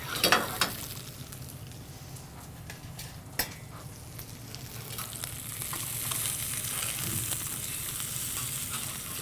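Dumplings frying in butter in a pan give a steady close sizzle with stirring and a few sharp scrapes and clinks of the utensil, and the sizzle swells slightly toward the end.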